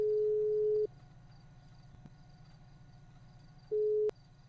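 A phone call goes unanswered and gives a busy-signal tone, a steady beep of almost a second, a long quiet gap over low hum, then a shorter repeat of the same tone.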